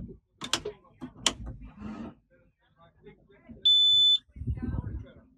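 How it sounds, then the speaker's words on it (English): A MOB+ X-Hub unit mounted on an outboard engine gives one short, clear electronic beep as it powers on after the battery switch is turned, with speech before and after. "that beep tells me that we've got power to the unit"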